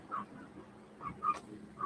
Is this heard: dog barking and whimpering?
yes